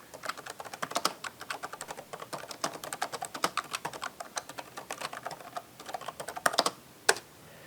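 Close-up clatter of fingers typing on an HP EliteBook laptop keyboard, quick irregular key clicks in bursts with brief pauses.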